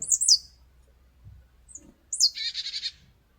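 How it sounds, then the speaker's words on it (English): A small bird gives thin, bright chirps outdoors at an off-grid cabin in France: a quick pair of calls at the start, then a rapid trilling burst near the end, with stillness between. "Little bird says it's going to be alright as well."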